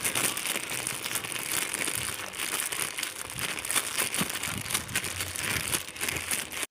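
A parcel holding a new iQOO Z10X phone is unwrapped at close range, with plastic packaging crinkling and crumpling continuously in uneven bursts.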